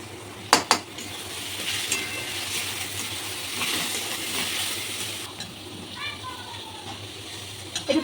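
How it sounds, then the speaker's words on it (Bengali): Spiced chana masala with salt, sugar, chili powder and tomato paste being stirred in a pan, a soft continuous scraping and faint sizzle with a few sharp utensil clinks against the metal. "এই দিয়ে কিছুক্ষণ নাড়াতে থাকবো।"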